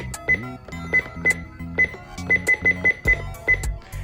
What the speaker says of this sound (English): So here are the button beeps.